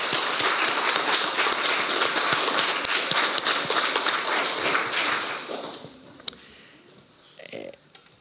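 Audience applauding elected youth councillors at a youth council and youth parliament results event, with sustained dense clapping filling a hall that fades out after about six seconds, followed by a few faint sounds.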